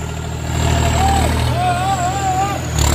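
A tractor engine runs at a steady, close idle, with a whining tone weaving over the low rumble for a few seconds.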